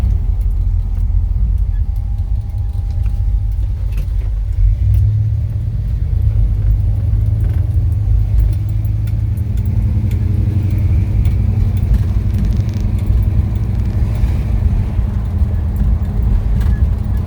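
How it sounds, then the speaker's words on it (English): A 1955 Chevrolet 210 post with a 454 engine drives over a bumpy road, a loud steady low rumble of engine and road noise filling the cabin with faint knocks and rattles throughout. "It's a really bumpy road."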